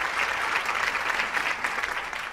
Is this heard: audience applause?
yes